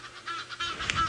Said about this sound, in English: There's an Egyptian goose that just zoomed over and went right past the top of our car